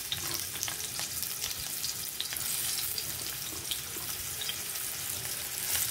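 Chopped onions frying in hot oil for chicken afritada, a continuous close sizzle with scattered stirring scrapes and small pops throughout.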